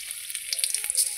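Dried red chillies hitting hot oil in a pan, a brief crackling sizzle with quick bright pops and spatters, close up and with no talking.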